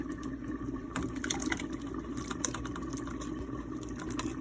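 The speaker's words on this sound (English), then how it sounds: "So we opened up the coconut milk and now she's adding it to the rice." Half a can of coconut milk is poured from the can into rice for a chicken curry, a soft steady liquid splashing and glugging close by, with no voices.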